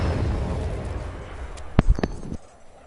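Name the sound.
rocket explosion in Fortnite video game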